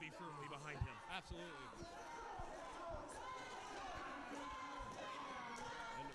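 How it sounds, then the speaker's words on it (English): Wrestling crowd at a live Charged show chanting and shouting as one dense, steady wall of voices, with scattered sharp thuds and bangs from the ring cutting through. "And there's some Dustin chants."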